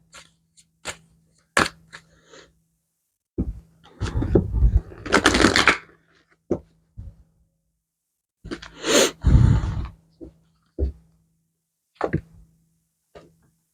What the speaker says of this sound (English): let's see what oracle cards come out.